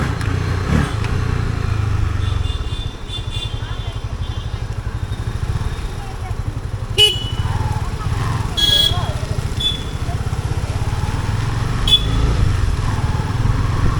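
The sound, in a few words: Honda CB300F motorcycle riding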